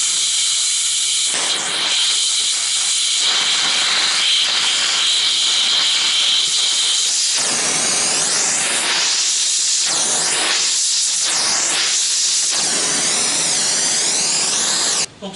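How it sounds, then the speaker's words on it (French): A gas torch hisses continuously and loudly while heating and welding the steel floor of a Citroën Traction 11B body, with crackling bursts and shifting tones throughout and no talk. "si je chauffe trop au chalumeau, évidemment, ça risque d'abîmer l'étamage."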